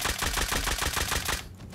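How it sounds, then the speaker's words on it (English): Rapid nail gun fire in the survival game Rust, a fast, steady stream of sharp clattering shots at a high fire rate, loud and close, stopping abruptly near the end. "he went ahead and worked on that and upped the fire rate of the nail gun"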